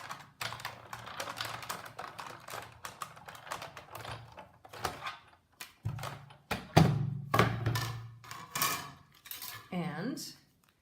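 Big Shot die-cutting machine cranking cardstock and a top standard cutting pad through with Thinlits dies, a close series of irregular clacks, thunks and ratcheting knocks with brief pauses, no talking.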